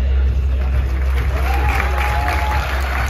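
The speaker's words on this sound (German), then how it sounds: "einen Applaus für die Semifinalisten" A crowd applauds the semifinalists at a German bodybuilding championship show, steady massed clapping with some cheering over a deep hall rumble, continuous and fairly loud.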